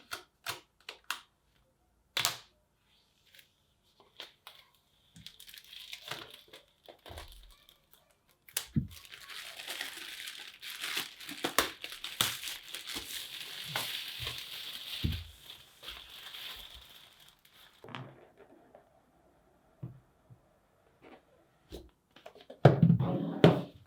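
Paper packaging of a 14-inch MacBook Pro being unwrapped, with close crinkling, tearing and rustling that starts in sparse scattered bursts and thickens into a longer stretch of continuous handling before ending in a few sharp knocks.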